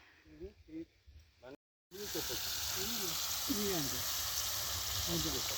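A loud, steady sizzle of potatoes frying in hot oil over a wood fire fills the clip after a brief cut, with a voice talking over it.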